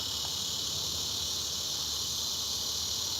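A cicada drones loudly and steadily, a continuous high-pitched buzzing that fills the whole stretch without pause.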